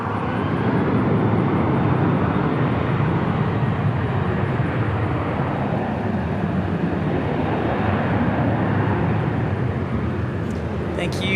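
An Emirates airliner takes off from the east side of Dallas Fort Worth airport, heard as a loud, steady broadband engine roar that holds throughout, with faint talk alongside.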